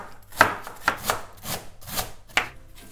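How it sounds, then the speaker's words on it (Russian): A knife chops through tough, crisp cabbage in steady, separate strokes, about six sharp cuts against a board, close and clear with no talking. "Капуста у меня сегодня жесткая, поэтому я нарезаю ее достаточно мелко и тонко."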